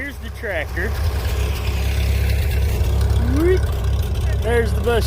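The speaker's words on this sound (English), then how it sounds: "So here's the tractor." A farm tractor, with a bush hog attached, idles with a steady low engine drone throughout while a person talks over it.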